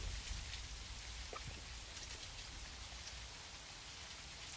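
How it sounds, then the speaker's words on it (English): Rain falling in the Virtual Hunter video game, a steady, even hiss of rainfall with a faint patter of drops that holds constant throughout, with no voices. "Of course, it's raining."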